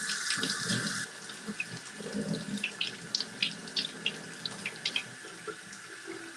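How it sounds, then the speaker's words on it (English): A paint brush rinsed under a running tap at a sink, with steady water flow splashing and shifting as the bristles are worked under the stream, fairly close and continuous with no talking. "And then I'm going to rinse."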